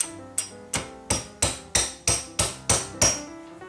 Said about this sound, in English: and with the hammer gently tap it down.